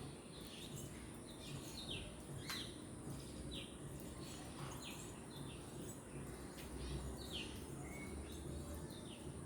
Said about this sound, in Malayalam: ഇവിടെ തത്തയായി തെങ്ങിൻ്റെ ഓലയിരിക്കുന്നത് കേട്ടോ.